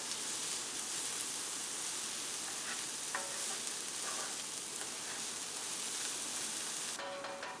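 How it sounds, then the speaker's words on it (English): Onions sauté in oil in a hot pan as potato lasagna is prepared, a steady broadband sizzle that holds close and constant throughout, with faint stirring clinks near the end. "in go our onions. Just like that. Let's get them on to a halfway decent saute"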